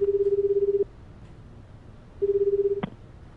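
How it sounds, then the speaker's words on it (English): A phone call rings out in 428: Shibuya Scramble, steady pulsing ringback tones, two bursts split by a short pause and then ended by a sharp click, clear and close with no talking. "Stanley stepped away from the others and took out his cell phone. He made a call to his superior, Gordon"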